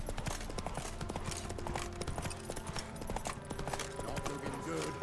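Hooves of Roach, a horse in The Witcher 3 video game, pound out a steady rapid galloping clip-clop with game music and ambience beneath, continuous and fairly loud throughout.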